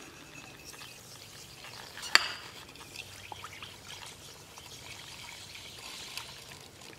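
Dry ingredients for a vanilla banana pudding are poured into a bowl of wet ingredients, making a faint, soft pouring rustle with one brief sharp tap, quiet throughout.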